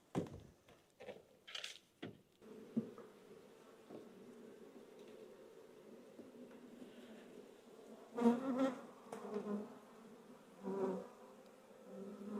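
Honeybees humming inside an opened, smoked beehive, a steady low drone close by that swells in louder bursts, with a few knocks and scrapes of hive parts at the start.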